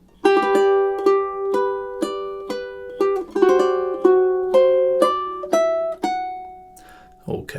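Ukulele chords in a pretty progression ring out as steady, evenly spaced strums, each chord held briefly before the next, ending with a softer resolving chord and a light thump.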